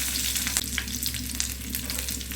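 Garlic and neem leaves fry in a little hot oil, a close, steady sizzle with crackling pops and stirring throughout the short stretch.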